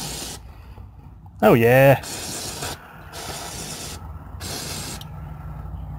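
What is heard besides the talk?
brake cleaner spray on a car front axle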